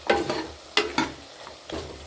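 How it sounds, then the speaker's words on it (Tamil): Mutton masala powder is stirred into hot frying oil for a Tamil mutton kulambu, giving four short scraping stir strokes over a soft sizzle, close and alone without talk. "போட்டு நல்லா கிளறி விடுங்க,"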